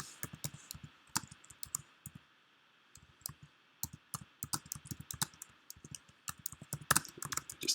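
Irregular clicks of someone typing on a computer keyboard while entering a task into a task management platform, crisp close keystrokes in short bursts with brief pauses, no talking.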